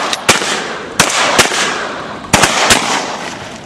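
Several loud, sharp shotgun blasts during a duck hunt, in two clusters of quick shots spaced about a second apart, with no talking in between.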